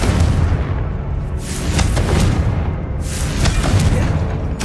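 The Confringo fire spell from Hogwarts Legacy explodes in a deep, rumbling boom that stays loud and continuous, with low-end roar and a few sharper crackling bursts layered on top throughout.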